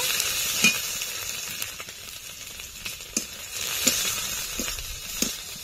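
Ginger and garlic paste frying in a pan for a Bengali prawn malai curry, a steady broad sizzle broken by a few sharp clicks and scrapes of a spoon stirring, close by and with no talk.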